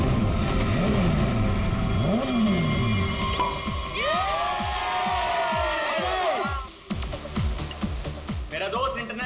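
Motorbike engines rev during a race, their pitch rising and falling in repeated sweeping bursts as they pass close by, mixed with crowd noise and voices.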